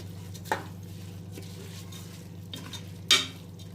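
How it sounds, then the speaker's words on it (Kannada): Rice being sautéed with masala for methi pulao, stirred in a pan: a low, steady sizzle with a few sharp scraping knocks of the spoon against the pan, the loudest near the end. "ಈ ರೀತಿ ಅಕ್ಕಿ ಹಾಕಿದಾದ್ಮೇಲೆ ಮಸಾಲೆ ಜೊತೆ ಒಂದು ಸ್ವಲ್ಪ ಚೆನ್ನಾಗಿ ಬಾಡಿಸ್ಕೊಳ್ಳಿ"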